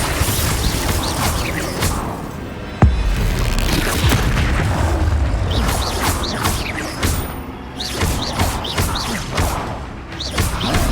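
Heavy booming blasts from Confringo spells in the Hogwarts Legacy game, with repeated deep explosive thuds over a dense, constant battle din, loud and close.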